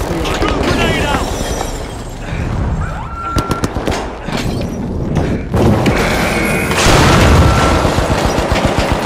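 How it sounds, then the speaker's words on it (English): A grenade blows up in the video game The Finals, a loud booming burst that stands out among rapid gunfire cracks and busy game noise. "Grenade out."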